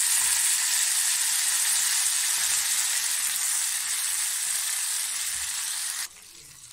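Curry leaves and mint crackle and sizzle in hot ghee with cumin, a steady, loud, close hiss of frying that continues evenly before dropping abruptly to a quieter fizz near the end.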